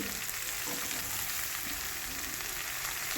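Radish, potato, sweet potato, mustard stems, beans and pumpkin fry in a pan with a dense, steady hiss and crackle at close range.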